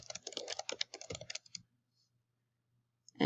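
Quick bursts of typing on a computer keyboard, a close run of crisp key clicks for over a second, then silence with a final click.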